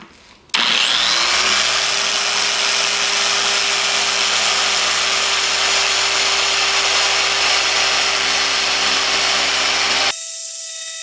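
A Harbor Freight Chicago Electric dual action polisher runs continuously with a loud, steady motor whine and buzzing hum, starting abruptly and holding an even pitch before cutting off near the end.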